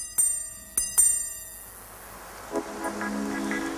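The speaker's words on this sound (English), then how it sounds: "And here's an alarm." A Swiss mechanical watch alarm chimes three times with bright metallic strikes that ring out and fade, followed by softer faint clicks and a quiet tonal hum.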